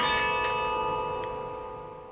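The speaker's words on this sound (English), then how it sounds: "Carillon's a series of tuned bells." Tuned carillon bells in the University of Texas at Austin bell tower ring with a sustained metallic hum and a few soft strikes, the tones slowly fading away.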